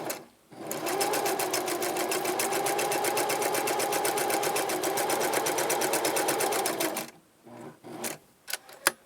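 A sewing machine stitching fabric for a gothic lolita veil runs in one steady, rapid stitching burst of about six seconds, close and even, followed by a few scattered clicks and handling knocks.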